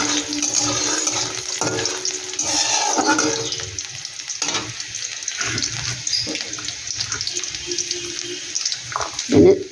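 Garlic frying lightly in oil for chilli baby corn makes a watery hiss and crackle with occasional stirring knocks, fairly close, while a voice talks intermittently over it.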